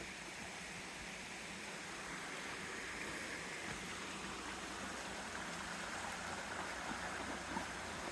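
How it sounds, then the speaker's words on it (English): Continuous rushing of a stream on a forest hike near the Watkins Glen waterfalls in New York, a steady broadband babble of flowing water, close and even throughout with no talking. "Going to some water that River has found."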